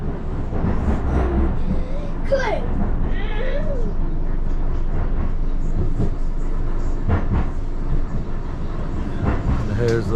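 A Blackpool tram running the coastal route toward Fleetwood Ferry gives a steady low rumble with rail clatter and squeals, loud and close from inside the car, with occasional announcements and voices over it.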